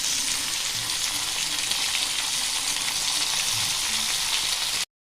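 Onions and tomatoes sautéing in a pan for macaroni hiss with a loud, steady, close-up sizzle throughout before cutting off abruptly.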